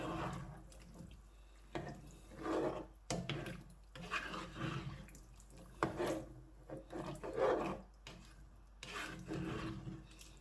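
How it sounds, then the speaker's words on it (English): A pot of chickpea curry being stirred with wet scraping, sloshing strokes. The strokes come in irregular bursts a second or two apart, close and fairly quiet, with no voices. "I'm going to give that a really good stir"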